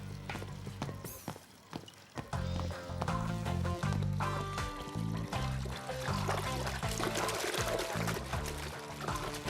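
Liquid pours and gushes in a French cartoon episode, a loud splashing flow that runs steadily over a busy score of music and effects, with a brief voice near the start.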